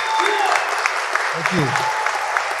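Applause rises for two athletes as an audience gives them a standing ovation, steady clapping with cheers under a brief spoken thank-you.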